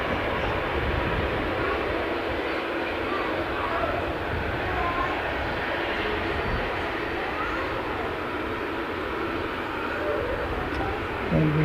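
A United airliner departing, its jet engines a steady broad roar that holds loud and even throughout, with no distinct voices over it.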